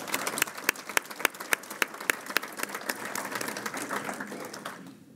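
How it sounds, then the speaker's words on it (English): Applause for County Judge Executive Reagan Taylor at the 2024 State of the County event: a room of steady clapping with crisp individual claps near the front, thinning and then stopping abruptly at the end. "a round of applause for County Judge Executive Reagan Taylor"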